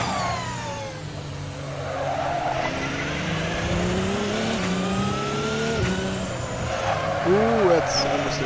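Audi R18 in a sim racing game at the Nurburgring, engine roaring through shifting revs as the tires squeal in understeer, with a sharp warbling squeal near the end and a voice talking over it.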